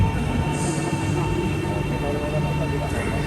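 A steady low rumble and hum of a train at a station in Malaysia fills the space, continuous and fairly loud, with a faint high whine above it.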